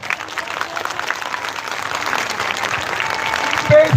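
A crowd at a Hindi-language poetry gathering applauds with dense, steady clapping that continues throughout, fairly loud and close, with a few voices faintly mixed in.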